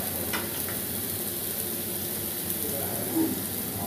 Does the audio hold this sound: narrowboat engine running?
no